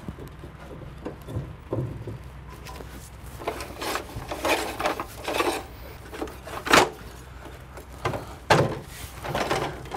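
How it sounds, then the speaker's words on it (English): Aluminium ladder being lifted off a van roof and set up against a building: intermittent scrapes, knocks and rubbing clatters of metal rungs, uneven bursts at close range with no speech. "take off our ladder"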